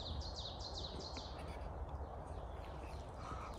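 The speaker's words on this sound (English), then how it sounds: "Listen to them birds, Jay." Faint bird chirps repeat in quick bursts early on, set against a steady outdoor rumble of wind or traffic noise.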